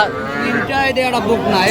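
A young bull calf moos loudly and close at a cattle market, a drawn-out wavering bellow filling the whole moment, with faint background noise.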